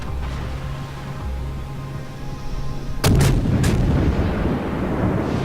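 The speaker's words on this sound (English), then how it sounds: "I do like the way he's firing the little occasional shots over here" Naval guns fire during a tier 3 World of Warships battle, with a sudden heavy boom followed by a couple of quick cracking blasts over a low steady engine rumble, close and loud, with no talk.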